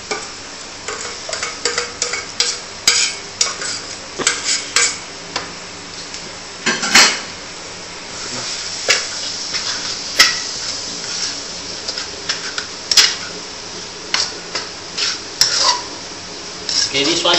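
Tauchong is stirred into frying onion and garlic in a pan, with a metal spatula repeatedly scraping and clanking against the pan over a low sizzle, a busy irregular rhythm of close, sharp knocks.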